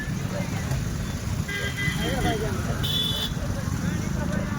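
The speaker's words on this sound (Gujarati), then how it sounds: "તમે જુઓ ટ્રાફિક ઓછું થવાનું નામ જ નથી લેતું. ટ્રાફિક જુઓ ખાલી." Heavy road traffic crawls along Station Road in Ranavav: engines and motorcycles rumble in a steady din while several car horns honk in short bursts, near and loud, with voices faintly mixed in.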